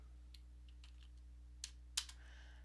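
A computer keyboard is tapped in a few sparse, quiet clicks, including a couple of sharper keystrokes, over a low steady hum in a quiet room.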